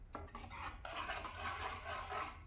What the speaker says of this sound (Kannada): ಇವಾಗ ಮೊಸರು ಎತ್ಕೊಂಡು ಅದಕ್ಕೆ ಮಿಕ್ಸ್ ಮಾಡ್ಕೊಳ್ಳೋಣ